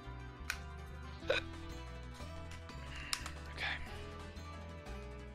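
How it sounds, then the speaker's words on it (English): Several sharp, short hiccups sound at uneven intervals over steady background music. "Uh-oh, we got the hiccups"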